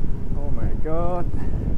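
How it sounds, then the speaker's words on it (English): Headwind buffets the microphone while cycling uphill, a steady low rumbling roar that masks a voice speaking briefly. "I got a headwind."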